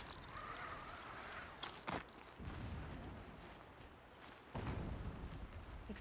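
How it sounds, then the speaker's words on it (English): Distant explosions in Horizon Zero Dawn rumble faintly across an open game landscape, with a couple of low, muffled blasts standing out from a quiet ambient bed. "Explosions in the distance."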